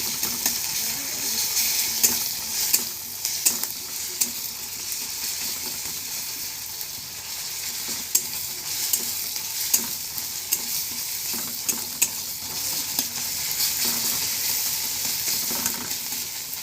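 Onions sizzle in a pan as garlic paste is added for a cabbage and chickpea ghonto, with a continuous hiss broken by frequent clinks and scrapes of a spoon and no talking.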